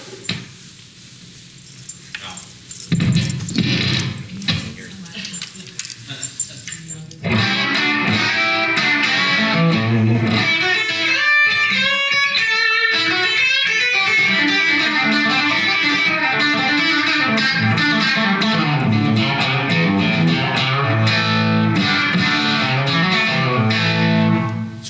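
An electric guitar with PAF pickups plays in a comparison demo, with a few sparse notes at first and then sustained, full, slightly driven chords and riffs ringing continuously for most of the passage.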